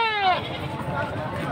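A goat at a livestock market lets out a loud wavering bleat, then the crowd noise and voices of people talking carry on around it.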